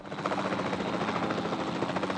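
A helicopter in the Jurassic World Evolution 2 video game flies downward, its steady rotor thrum and engine whine holding at a constant level throughout with no talk over it.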